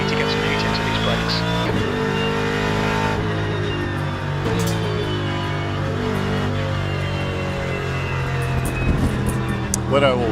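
A GT racing car engine in the video game Le Mans Ultimate drones steadily throughout with shifting pitch and gear changes, while a voice talks over it.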